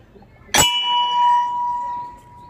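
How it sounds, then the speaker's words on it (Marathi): A single bell struck once inside an ancient stone Shiva temple, giving a sharp metallic clang followed by a clear, sustained ringing tone that slowly fades over about two seconds, close and loud. "इकडे घंटी आहे, पण घंटी वाजूयात"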